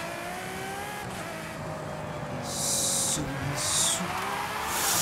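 Ferrari in Forza Horizon 5 on Xbox Series X: engine drone with bursts of high tire squeal as the rear breaks loose, several skid squeals over a continuous motor hum, with a brief voice.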